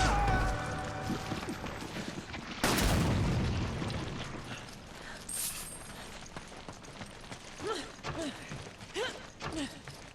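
Enemy gunfire in Resident Evil 5: one loud, booming shot cracks out early, followed by lingering game rumble and lighter thuds and running steps.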